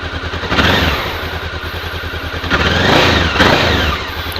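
A carbureted Honda CB 500 motorcycle on its original exhaust, revving up in a few sharp throttle blips over a steady idle, loud and close.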